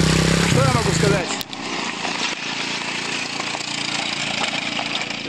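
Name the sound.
motorcycle riding past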